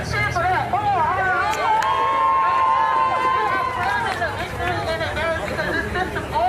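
A rally crowd cheers and chatters, a dense roar of voices with a loud shout carried over the top and continuing throughout.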